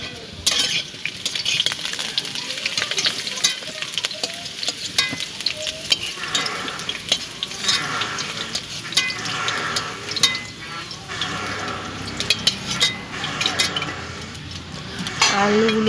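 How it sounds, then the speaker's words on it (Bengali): Potatoes fry in hot oil in a pan at close range, with a steady sizzle and repeated scraping and stirring of a utensil against the metal throughout. "তেল গরম হলেই আলুগুলো প্রথমে ভেজে নেব।"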